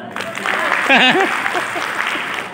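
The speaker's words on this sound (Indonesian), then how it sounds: "Mana tepuk tangannya?" Audience at an education office meeting applauding: a soft, continuous patter of clapping runs throughout, while a voice speaks over it in the middle.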